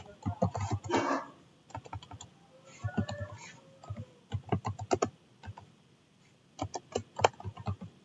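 Bursts of clicky keystrokes on a computer keyboard, close and crisp, coming in quick irregular runs separated by short pauses.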